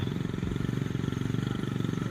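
A motorcycle engine idles and chugs in a steady, rapid pulsing rhythm while the bike is used to work a farm field, close and continuous with no talking.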